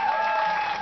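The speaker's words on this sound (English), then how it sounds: "Everyone, give them a round of applause." A crowd breaks into steady, dense applause right after a marriage proposal, a continuous wash of clapping with a faint tonal hum running underneath.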